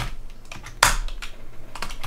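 Keys clatter on a computer keyboard as a command is typed on a Raspberry Pi, a quick irregular run of close clicks with one sharper, louder keystroke in the middle and no talking.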